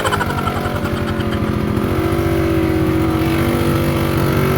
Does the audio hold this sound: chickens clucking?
no